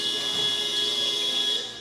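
A long steady electronic buzzer sounds at a FIBA AmeriCup basketball game, Haiti versus Montserrat, droning continuously and loudly over arena ambience.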